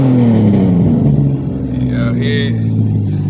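A parked Dodge Magnum Mopar car with its engine revved up and then falling back, a loud close mechanical roar that dips midway, with a higher squeal near the end and no talking.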